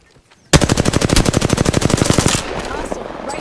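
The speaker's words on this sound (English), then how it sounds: "Taking fire." A loud, close burst of rapid automatic gunfire in Apex Legends, playing Bangalore in Season 2, rattles steadily for about two seconds before cutting to a softer noisy tail.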